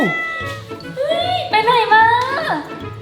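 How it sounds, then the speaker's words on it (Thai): A cat meows several times in drawn-out, rising and falling cries, close and fairly loud, with a low background hum. "เสียงแมว"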